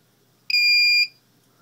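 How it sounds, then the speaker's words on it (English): A single sharp electronic beep from an OpenLRS receiver as its bind button is held, a clean steady tone lasting about half a second over a quiet background. "You hold down the bind button till you get that beep."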